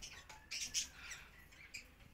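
Birds squawking and chirping in short bursts at a home, fairly faint, a few sharp calls standing out over a low background hum.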